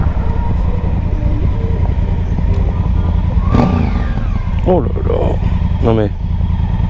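A Honda Africa Twin motorcycle running on its stock exhaust, a loud, dense engine rumble that holds steady throughout, with a voice speaking over it near the middle and end.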